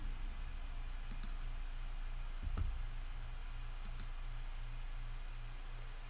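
Several sharp mouse clicks land in small pairs and singles over a steady background hum as corners are selected in Fusion 360 CAM software. One slightly louder click sounds near the middle.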